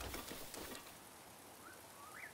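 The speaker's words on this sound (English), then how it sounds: "it is raining" Rainfall in the video game Zelda: Breath of the Wild, a steady quiet hiss of falling rain with faint patter and a couple of soft chirps near the end.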